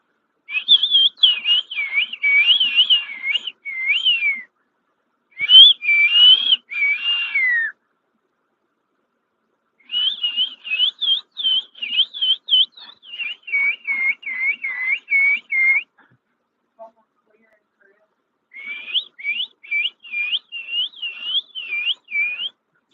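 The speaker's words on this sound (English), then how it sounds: "Y'all watch me learn to whistle in real time." Someone practising whistling, bird-call-like warbles, produces rapid, trilling high whistle phrases in several bursts separated by short pauses, fairly close and clear with no talk.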